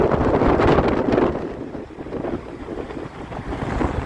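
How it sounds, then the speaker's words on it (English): Strong wind in Iceland buffets the microphone with a steady rushing roar, loudest at first and then easing into a lower, gusty rumble. "Quite windy here in Iceland."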